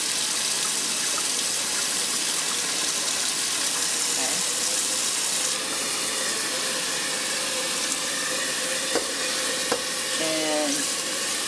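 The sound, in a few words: cold water rinsing goat milk butter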